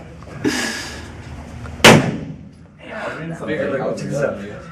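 Handguns fired at a shooting range: two sharp, loud reports about a second and a half apart, the second much louder and closer, with people chatting before and after.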